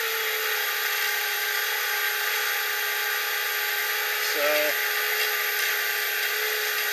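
Pair of contra-rotating electric motors for a model aircraft build spin at slow speed, a steady high-pitched whine held throughout, with someone briefly talking over it.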